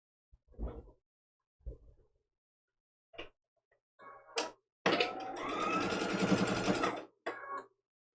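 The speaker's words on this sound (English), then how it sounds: "we're sewing right on that line" A sewing machine stitching a quilt seam for a foundation paper pieced block: a few short whirring bursts, then a longer continuous run of rapid stitching, close and clear against a quiet background.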